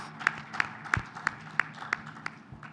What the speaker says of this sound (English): Let's give a round of applause to the speakers.